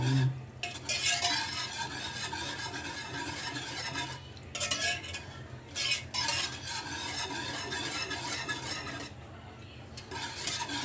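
A maja blanca mixture is stirred in a pot, a continuous close scraping and swishing with occasional utensil clinks against the metal and brief pauses between strokes.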